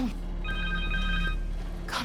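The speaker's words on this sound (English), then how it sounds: "Connor's cell phone." A cell phone rings in the Spider-Man 2 video game, a steady electronic tone with several quick pulses over a low game-soundtrack hum, with a voice speaking briefly just afterward.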